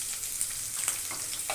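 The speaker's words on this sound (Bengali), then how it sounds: "আমি রসুনটাকে গ্রেট করে রেখেছি, রসুনটা দিয়ে একটু ভেজে নেব" Grated garlic, chopped chilli and whole cumin fry in hot oil for an egg tadka, a close, steady crackling sizzle with light stirring scrapes and no voices.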